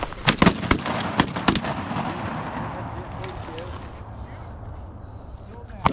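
Shotgun blasts fired at geese on a small pond during a hunt, several sharp close reports in quick succession near the start, one more at the end, with people talking and outdoor ambience between.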